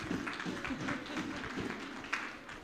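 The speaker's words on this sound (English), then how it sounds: "give him a round of applause for that" A small group at an outdoor awareness walk gives a faint, scattered round of applause, soft irregular claps running steadily throughout without talk.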